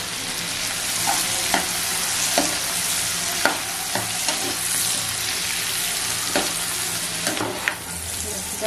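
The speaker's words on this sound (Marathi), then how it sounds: "तर आता याच्यात आहे ना कांदा टाकते." Two finely chopped medium onions go into oil with garlic that has already browned. A dense, continuous sizzle is punctuated by regular light clicks and scrapes of a spoon stirring in the pan.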